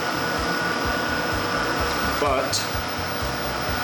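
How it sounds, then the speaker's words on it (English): A cooling fan blows steadily inside a Buggy Challenge arcade cockpit cabinet, a constant close whoosh with a faint rhythmic hum, and a brief spoken word cuts in partway through. "The fan is blowing."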